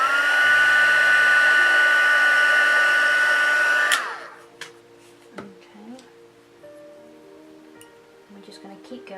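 A heat tool blows a loud, steady whirring drone while heat-setting paint, then cuts off abruptly after about four seconds, leaving quiet room noise with faint clicks and small handling sounds.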